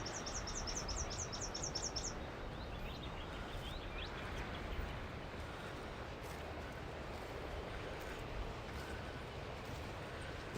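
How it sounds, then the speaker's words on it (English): Small birds chirp in a forest on an eroded hillside near the ocean, a quick run of high repeated notes early on over a faint, steady background wash, then a few softer chirps. "I can hear small birds."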